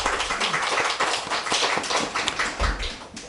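A church congregation applauds together, dense and steady clapping from many hands filling the room at full volume, continuous for several seconds.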